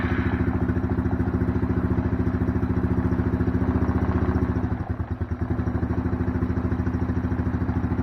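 A 1998 Arctic Cat ATV engine runs close by at a steady, fast-pulsing idle, with a brief dip and stumble midway before settling back into an even rumble, and no voices.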